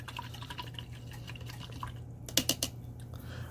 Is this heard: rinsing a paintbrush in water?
yes